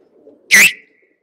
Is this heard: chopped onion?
no